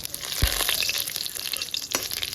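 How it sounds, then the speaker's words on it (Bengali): Bay leaves and five-spice seeds dropped into hot oil in a wok give a steady crackling sizzle, with a couple of sharper pops and clatters standing out near the start and toward the end. "কড়াইতে একটু তেল দিয়ে নিচ্ছি। দুটো তেজপাতা আর 5 ফোড়ন সম্বারে দিয়ে দিলাম।"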